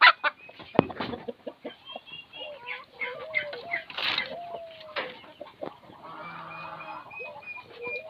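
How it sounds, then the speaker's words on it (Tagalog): Chickens and young chicks, including Brahma chicks, clucking and peeping on a farm at feeding time, with a scatter of close calls and chirps, a brief honk-like call, and some talking in the background. "Ang ating mga sisiw. Kasama yung sisiw ng Brahma."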